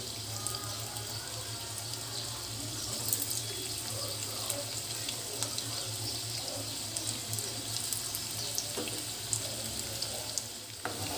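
Maggi noodle rolls deep-frying in hot oil over a high flame, giving a steady close hiss with scattered small crackles and pops throughout, no voices.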